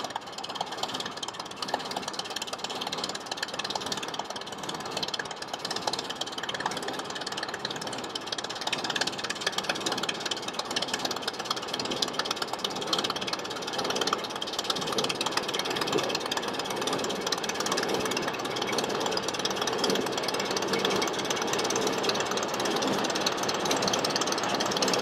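Steam traction engines running at a threshing festival, a continuous rapid mechanical chugging and clatter with steady loud machinery noise throughout and no talk.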